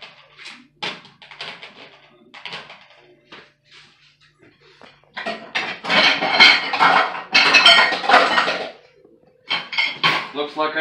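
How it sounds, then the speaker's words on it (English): Ceramic plates and dishes clink and knock as they are lined up facing the same way in a dishwasher rack, giving scattered clatters that grow into a busy, louder run of clinks before a brief pause and more rattling. "I'm going to take these plates and line them up facing the same direction."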